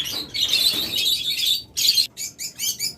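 A pair of opaline ring lovebirds chirp close by in bright, rapid bursts of shrill tweets, with short gaps between the calls and no voices.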